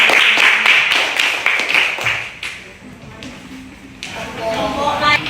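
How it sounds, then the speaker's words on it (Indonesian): Classroom clapping after a student group presentation, a burst of distinct close hand claps that thins into scattered taps and shuffling, with some background voices in the room. "tepuk tangan."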